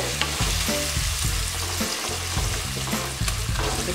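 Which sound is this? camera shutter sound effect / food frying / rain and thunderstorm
food frying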